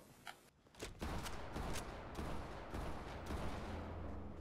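Rapid bursts of shotgun fire in a Fortnite match, dense booming blasts following one another over about three seconds after a brief quieter moment.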